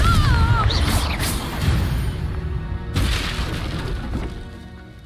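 A Confringo spell blast in the video game Hogwarts Legacy: loud booming impacts with shattering, crashing debris and a brief whooshing tone, then a second blast a few seconds later, fading out.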